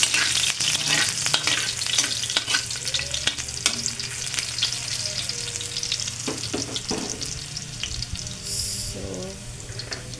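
Garlic and vegetables frying in a pan, a continuous close sizzle with scraping stirs and clinks from utensils, a brief burst of hiss near the end.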